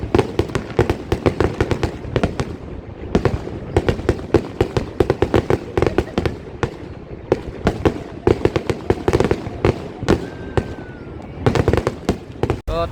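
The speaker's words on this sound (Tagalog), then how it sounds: "Na-finish na yung aming panonood ng fireworks." Rapid, dense volleys of firework explosions at a Canada Day celebration at River Landing in Saskatoon, loud sharp bangs and crackles bursting one after another with barely a pause, some distant pops mixed in.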